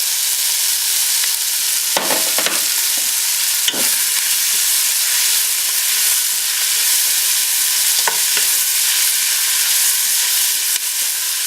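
Onions sizzle and crackle steadily in olive oil in a hot pan, a constant bright hiss with occasional louder pops and scrapes, close up, with no talking.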